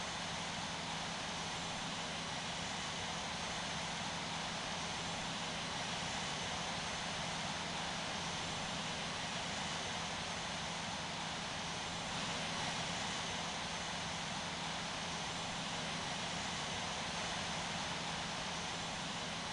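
A Boeing 777-300 taxiing in the Infinite Flight game at Sydney gives a steady, dense jet engine roar with a constant broadband hiss, unchanging and continuous throughout, with no voices.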